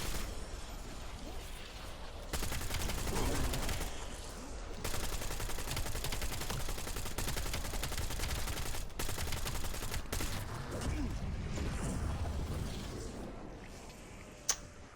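Video game gunfire aimed at floating zombies, with rapid bursts of automatic shots that repeat in sustained volleys, fairly loud and dense over a rumbling game background.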